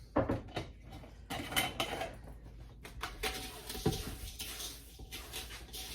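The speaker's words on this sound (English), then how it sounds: "So I just dump a scoop of that in." Dry chia seeds are scooped with a 2 tablespoon measuring scoop and dumped into a peanut butter chocolate chip granola bar mix, giving a few close scraping rattles and soft pattering clatters against a bowl.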